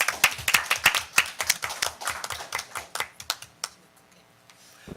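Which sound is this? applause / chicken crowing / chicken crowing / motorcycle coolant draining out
applause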